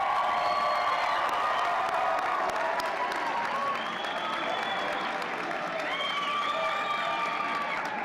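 Graduation audience at a 2017 college commencement cheering and applauding supporters, sustained clapping mixed with shouts and whoops from a large hall crowd, staying loud and steady across the whole stretch.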